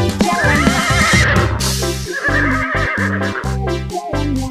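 A horse whinnies over loud, steady, rhythmic music, a bright neigh at the start that blends into a continuous beat.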